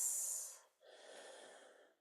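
Deep breathing during a Valentine's Day vinyasa yoga class, a long airy exhale followed by a pause and a slower, lower sustained breath, close and unhurried.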